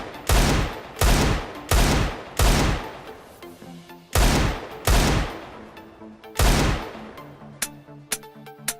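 Video game gunfire: a series of loud, sharp shots in irregular pairs and singles, each with a short decaying tail, followed by small clicks and tones of the weapon and menu sounds, with no talking.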